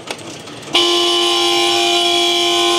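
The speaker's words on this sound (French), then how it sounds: "pour arrêter le klaxon, il faut appuyer sur ce bouton, la vigilance" Steady, loud vigilance alarm horn in an early electric locomotive cab at a railway museum, cutting in abruptly after a quiet moment and then holding one unbroken tone with no talk.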